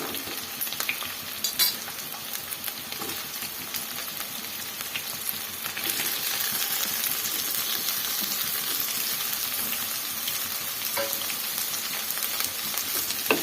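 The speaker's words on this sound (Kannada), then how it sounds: "ಆಯಿಲಲ್ಲಿ ಸ್ವಲ್ಪ ಚೆನ್ನಾಗಿ ಫ್ರೈ ಮಾಡ್ಕೊಬೇಕು." Squeezed bitter gourd pieces fry in hot oil with a dense, continuous sizzle, broken by occasional stirring scrapes and clinks, close and steady with no voices.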